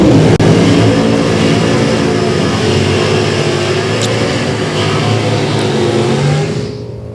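Camaro drag race cars launch at a strip, a loud, sustained roar of V8 engines under hard acceleration that holds for several seconds before beginning to fade.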